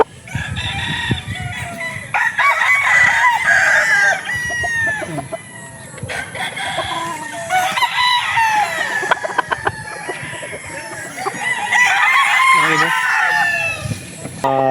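A Tornado hatch gamefowl rooster crows repeatedly and loudly on a farm in Bulacan, with clucking and other roosters crowing around it, and occasional voices nearby.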